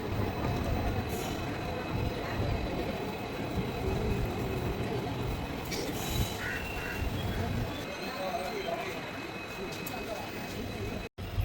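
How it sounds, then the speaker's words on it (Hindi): Train pulling out of Madurai railway junction on the Rameswaram to Madurai route, a steady loud rumble and rattle of wagons rolling throughout, with faint voices and small station noises in the background. "अब हमारा डिपार्चर हो रहा है माना मदुरई रेलवे जंक्शन से।"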